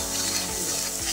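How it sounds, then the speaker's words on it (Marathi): Chili powder and coriander powder sautéing in a pan for misal masala give a steady, close sizzle and crackle that runs unbroken throughout with no voices. "त्यात 2 चमचे मिरची पावडर टाकली, 1 चमचा धना पावडर टाकली आणि 5-6 मिनिटं पुन्हा परतले"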